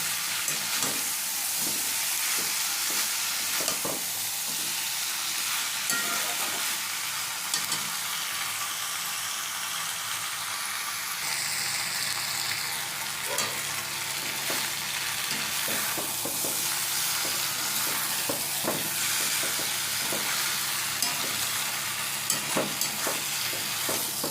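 Taro stolons cooking with amudi fish and spices in a pan, giving a steady close sizzle with repeated scraping strokes from stirring throughout, no voices.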